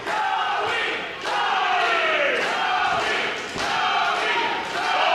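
An indoor wrestling crowd chants and roars for Joey Marx in loud, rhythmic waves, with brief dips between the swelling surges of many voices.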